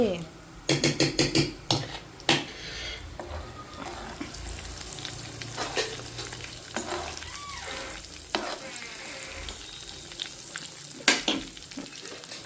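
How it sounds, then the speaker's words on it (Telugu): Tempering spices crackle and sizzle in hot oil for an amla and red chilli pickle, with a quick burst of metal clinks early on and occasional spoon scrapes against the pan. "ఈ పోపులు వేగుతున్నాయి"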